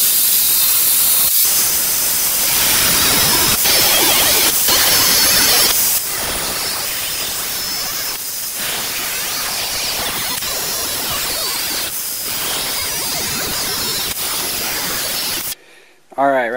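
Metal is being cut into pieces for homemade valve cover fasteners, a loud, harsh continuous hiss with a few brief dips, then a sudden drop to near silence just before the end.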